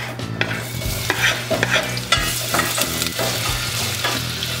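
Half a diced onion sautés in two tablespoons of vegetable oil, crackling under frequent utensil stirs and scrapes, close up with a low steady hum beneath, no speech.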